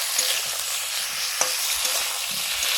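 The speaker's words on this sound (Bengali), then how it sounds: "একেবারে সবজিগুলো ভেজে নিচ্ছি গোটা গোটা সিমও দিয়ে দিয়েছি" Mixed vegetables and whole beans frying in a pan make a loud, continuous sizzle close up, with faint stirring knocks and one brief clink.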